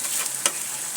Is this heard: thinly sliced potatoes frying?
yes